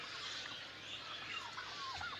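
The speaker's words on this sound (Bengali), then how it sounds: "আসুন আমাদের টার্কির আপনার বাচ্চাগুলি দেখেন, বর্তমানে বাচ্চা টার্কির কী অবস্থা।" Young turkeys on a farm give faint, high chirping peeps and short rising calls over a soft, steady background hiss; no voices.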